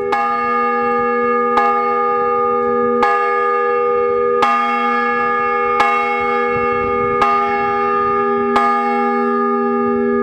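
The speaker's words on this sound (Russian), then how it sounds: "владыка-наместник совершает звон и во второй колокол" A newly consecrated church bell, the second and thinner-toned of a pair, tolls repeatedly, about every one and a half seconds, each strike ringing out loud and close with long overlapping resonance.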